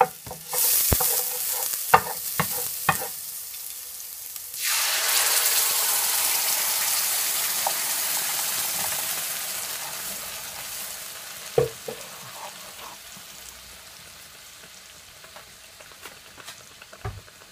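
Plum tomato dropped into hot oil sizzles loudly in a pan while meatballs are prepared, with a spoon stirring and scraping at intervals; the frying hiss settles into a steady, softer crackle.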